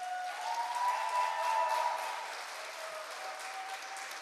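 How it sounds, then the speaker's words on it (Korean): An audience applauds at the 2020 Lee Hae-rang Theatre Award ceremony, a dense steady patter of clapping that swells briefly then settles into a softer, continuing round. "다시 한번 박수 부탁드립니다."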